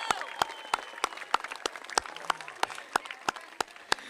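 A crowd applauds young people at a Buffalo Bills and Maple Leaf Sports and Entertainment community event, with sharp, distinct claps ringing out in a steady scattered rhythm over softer general clapping.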